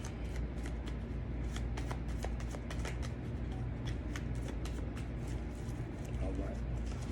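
A smaller deck of Wildwood Tarot cards being shuffled, giving a steady close riffle of dense papery flicks and taps that runs the whole time over a low background hum.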